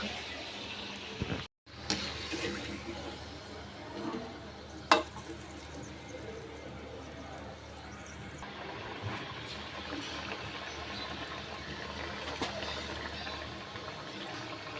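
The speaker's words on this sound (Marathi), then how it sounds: "कढईमध्ये टाकताच टम्म फुकतोय" A vada fries and puffs up in a kadai of hot oil. A continuous hissing sizzle and bubbling carries throughout, with a few sharp knocks near the start, and it is close but fairly quiet.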